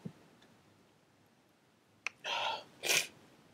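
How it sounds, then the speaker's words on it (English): A single close, sharp sneeze in two bursts, a quick intake then an explosive release, after a faint click and near silence. "Excuse me, I'm going to sneeze."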